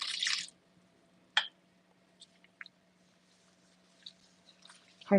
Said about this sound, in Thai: เราหยอดน้ำลงไปก่อน